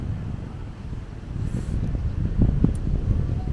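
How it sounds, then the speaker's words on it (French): Steady, low rumbling beach wind buffets the microphone, with gusty surges growing stronger toward the end; no voices. "il y a un vent pas possible là"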